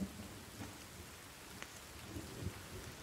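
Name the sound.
rain falling in The Forest video game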